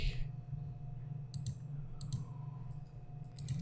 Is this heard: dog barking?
no